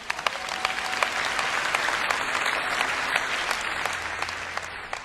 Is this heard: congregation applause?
yes